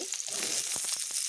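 Sliced pointed gourd (potol) frying lightly in a pan, giving a steady close sizzle with a few soft stirring scrapes through it.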